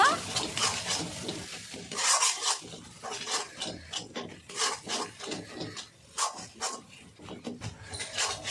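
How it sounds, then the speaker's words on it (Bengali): A spoon scrapes and stirs chunks of jackfruit curry mixed with turmeric, Kashmiri red chili powder and ground coriander in a pan. The close rasping strokes come in an uneven rhythm with soft sizzling underneath. "কাশ্মীরি রেড চিলি পাউডার ধনে গুঁড়ো সব কিছু এখন ভালো করে মিক্স করে নেব"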